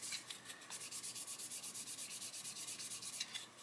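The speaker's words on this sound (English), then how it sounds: "I'm not putting any pressure on, I'm letting the sanding stick do the work" Sanding stick rubbing over surfacer on a model kit chassis, light rapid back-and-forth scratchy strokes in a steady rhythm of about eight per second, close and quiet with no voices.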